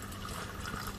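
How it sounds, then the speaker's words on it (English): Water flowing straight into the bell siphon of a test aquaponics system: a continuous close gurgling, trickling rush of moderate level, steady for the whole moment with no talk. "Decided to put the water going directly into the bell siphon."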